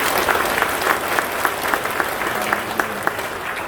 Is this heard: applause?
yes